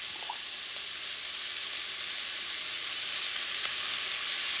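Sofrito caramelizing in hot oil for a Puerto Rican asopao de pollo, giving a continuous, even sizzle that stays loud and close from start to finish.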